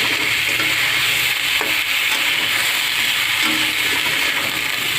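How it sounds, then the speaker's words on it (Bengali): Fish pieces coated with turmeric fry and are stirred in a pan, giving a loud, constant sizzle with light scraping from the stirring throughout. "সামান্য হলুদ দিয়ে একটু নাড়াচাড়া করবো"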